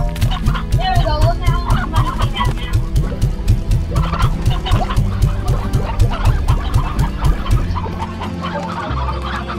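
Stony hens from the video game Slime Rancher cluck in a loud, rapid, repeated rhythm, with game sounds layered over it and no talk.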